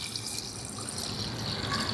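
Second and third coconut milk pours into a fish curry as a steady liquid trickle and splash, close and moderately loud, continuing for a couple of seconds with no speech.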